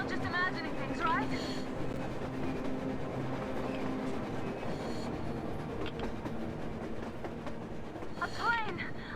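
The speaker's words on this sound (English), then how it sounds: "A train! A damn train on the surface!" A train in the video game Metro Exodus rumbles and clatters past on the surface, a continuous rolling drone with metallic squeals at the start and end, under faint game voices.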